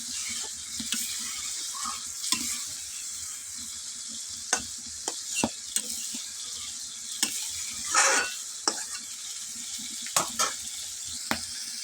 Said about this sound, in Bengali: আমি একটু খুন্তি দিয়ে হালকা একটু ভেজে নেবো